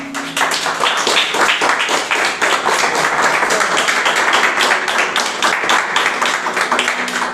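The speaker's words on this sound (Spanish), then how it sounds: "Vamos a darle un fuerte aplauso al Señor" A church congregation breaks into loud, sustained applause with dense overlapping claps that fill the room steadily from start to finish.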